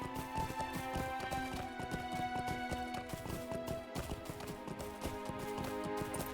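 Horse hooves clip-clopping steadily in the video game Lord of the Rings Online, a quick even gait over a constant tonal music bed, moderately loud throughout.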